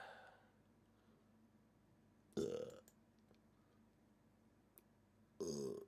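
A man lets out a loud, close burp, then another one a few seconds later, with quiet room noise in between.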